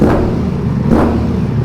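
A Ducati Multistrada V4 Pikes Peak fitted with a full Akrapovic exhaust revs loudly and close by, with a steady growl and two quick rises in engine pitch.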